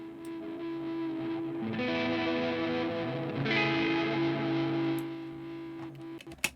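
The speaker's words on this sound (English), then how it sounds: "And that definitely is a space echo." Music processed with a space echo effect, tonal layers smeared into repeating, atmospheric tails that swell midway, playing alone without voices before a brief sharp hit near the end.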